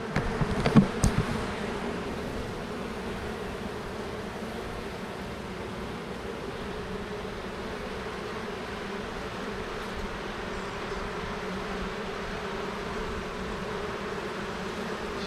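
Honey bees hum steadily inside an opened hive box, a dense continuous buzz close by with a faint knock at the start and no voices.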